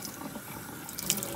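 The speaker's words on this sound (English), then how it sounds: "this faucet is the equivalent of a freaking downpour" Water from a faucet runs and splashes steadily over a jacket hood, a soft, continuous trickling and spattering heard up close at low volume.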